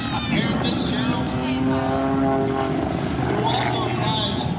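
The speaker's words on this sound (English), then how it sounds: "Around the P105 helicopter." A P105 helicopter flying at the EAA AirVenture 2022 airshow in Oshkosh, Wisconsin, its loud rotor and engine droning steadily while an announcer talks over it.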